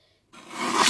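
Scissors cut through a paper sentiment strip in one short, close rasping snip that rises from silence and grows louder as the blades close.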